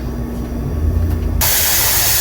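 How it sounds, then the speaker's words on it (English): Steam spews from the vent of a pressure canner full of hamburger soup. A low rumble gives way to a sudden, loud, steady hiss that stays close and constant. "heat until it starts spewing out steam from the vent here"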